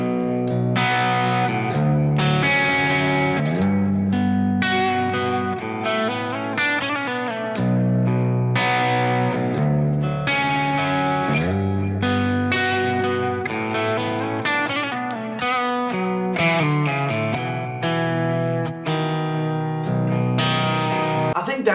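Electric guitar in Drop B tuning run through effects, strumming chords that drone low in the bass with clean, shimmering upper notes, continuous and full with a chorus-like sheen and some distortion.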